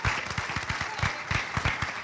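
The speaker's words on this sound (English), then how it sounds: "how about a nice round of applause, State Senator Joe Schiavone" Audience applause at a black-and-white chamber gala for a state senator, a steady wash of many hands clapping at moderate volume.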